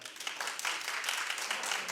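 Studio audience on a daytime talk show claps in a steady, dense patter for about two seconds, a continuous wash of hands with no voices rising above it.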